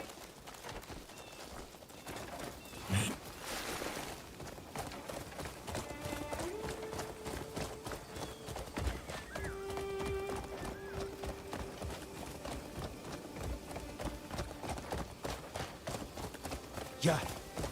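A horse gallops in the video game Crimson Desert, with rhythmic hoof clip-clops running throughout alongside game music tones, a brief whinny, and someone talking over it.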